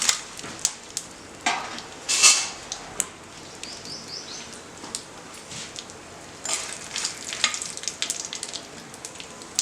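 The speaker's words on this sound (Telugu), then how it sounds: "మనకి ఇక్కడ నూనె వేడెక్కగానే ఇందులో నేను ఫస్ట్ ఆవాలు వేసేసుకుంటున్నాను. నెక్స్ట్ ఎండుమిరపకాయ," Mustard seeds and dried red chili fry in hot oil for an Andhra mango and jaggery pickle, giving a steady sizzle with scattered pops and a few clinks of a utensil against the pan, with no voices.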